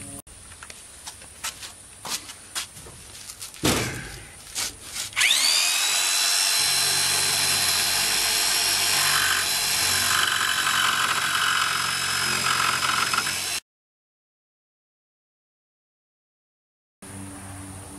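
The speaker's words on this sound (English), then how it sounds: "So now I'm going to cut that with a jigsaw, and I'm going to do it right in place." A jigsaw cuts through plywood fitted in place on a vintage Westerner trailer floor, a loud whining buzz running steadily for about eight seconds after a few clunks and knocks, then cutting off into silence.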